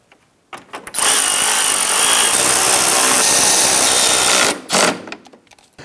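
Power tool snugging down the four bumper nuts on a 2011-2019 Ford Explorer during a front grille replacement, a steady loud whir running for about three and a half seconds, then a brief second burst.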